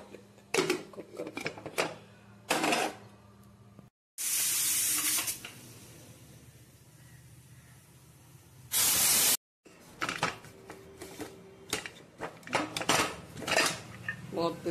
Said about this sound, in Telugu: ఇప్పుడు విజిల్ పెడదాం కుక్కర్.